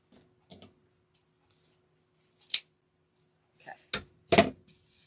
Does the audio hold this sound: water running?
no